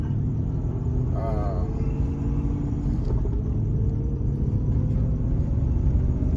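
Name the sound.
Aston Martin engine accelerating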